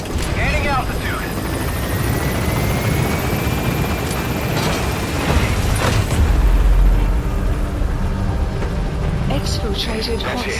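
Helicopter rotor and engine roar steadily and loudly as it takes off and gains altitude in the video game Metal Gear Solid V: The Phantom Pain, with a heavy low rumble swelling midway and voices talking over it.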